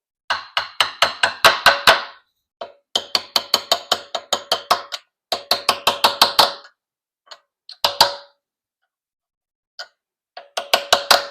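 Repeated sharp hammer strikes drive U-joint retaining clips into the front axle of a 1980s Jeep, coming in fast rhythmic bursts of ringing metallic taps separated by short pauses, close and loud.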